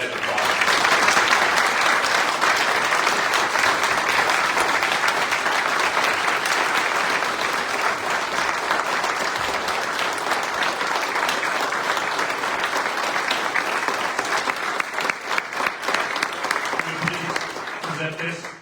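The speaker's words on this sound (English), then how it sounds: "Go ahead and applaud." Loud, sustained applause from the audience at a Medal of Honor ceremony for a deputy and a corporal, dense clapping with some crowd voices mixed in, thinning into scattered claps toward the end.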